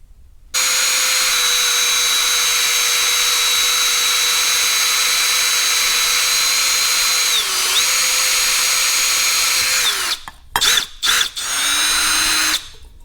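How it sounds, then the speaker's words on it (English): A power drill bores a small hole in a Farmall tractor light, whining steadily and loudly for about ten seconds, dipping briefly midway, then ending in a few short bursts. "And now we drill a small hole in this area right here."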